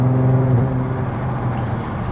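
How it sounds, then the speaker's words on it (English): A stage 2 tuned VW Golf R32 MKV with a manual gearbox rumbles loudly and close by, its engine and exhaust holding a steady droning note that eases off partway through, with no talking. "And then as soon as you back off to change gear, because it's the manual, at higher RPMs it lets off a massive bang."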